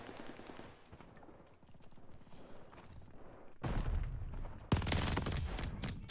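Rapid automatic weapon fire in the Call of Duty: Vanguard multiplayer beta begins as a quieter rattle, then swells into loud, dense bursts of shots with a sharp crack near the end.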